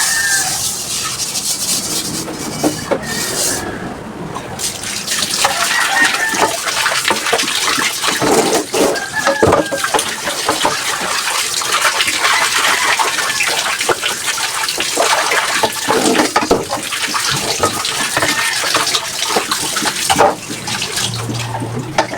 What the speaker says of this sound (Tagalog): Ayan, at hugas na ang kawali.